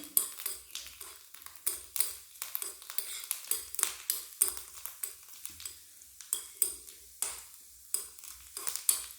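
Coconut strips frying in oil over a medium flame, a steady soft sizzle broken by frequent scraping and clinking of a utensil stirring in the pan, close and moderately loud, with no talking.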